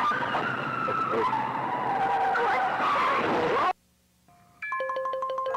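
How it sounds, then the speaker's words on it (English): Loud, sustained tire skid from a car in the horror video game The Walten Files, running nearly four seconds before cutting abruptly to silence, then a brief electronic jingle of game tones. "You couldn't find the barn tasks and crashed the car."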